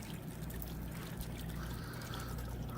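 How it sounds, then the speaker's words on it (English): Small waterfall in a frog terrarium, splitting into streams and trickling down into a shallow pool, giving a close, steady watery splashing and dribbling with no voices. "there's the waterfall, flows into a body of water up at the top there"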